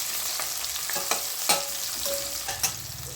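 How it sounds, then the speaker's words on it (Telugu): A large chopped onion fries in a pan for egg biryani, giving a continuous close sizzle broken by a few sharp stirring scrapes and spoon knocks. "ఆనియన్ ఒక మిడిల్ సైజ్ పెద్ద ఆనియన్ వేసి మంచిగా వేయించుకోవాలి"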